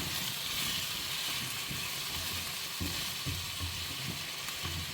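Potatoes frying in a pan over a medium flame, a steady close sizzle with occasional soft stirring bumps, no voices.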